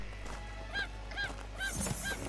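A chicken in the video game Craftopia calls out in a short series of four or five nasal, honking squawks, fairly close and clear over a steady low background hum.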